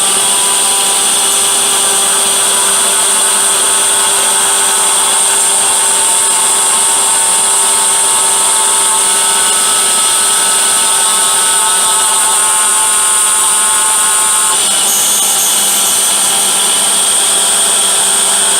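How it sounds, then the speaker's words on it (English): A Hydra three-phase spindle mills aluminum in a VX plunge cut, letting out a loud, steady, high-pitched machining whine with a constant hum. The tone shifts slightly near the end. "So this is called a VX plunge. I'm moving the Z down while moving the X down."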